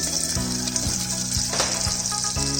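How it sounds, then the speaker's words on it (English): Onions sauteing in hot oil and butter in a pan, a steady close sizzle and crackle with a few soft stirring scrapes. "Heat little bit oil and butter in a pan. Add few onions,"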